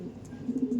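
Pigeons in a loft give soft, low cooing, a few brief rounded pulses repeating close by, with faint higher chirps above.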